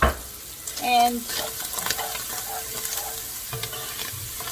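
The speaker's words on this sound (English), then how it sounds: "I'm going to add that to the pancetta, let it cook together." Chopped shallots sizzle and fry with pancetta in a pan, a soft crackling hiss with a few stirring scrapes and clinks; a brief spoken word comes near the start.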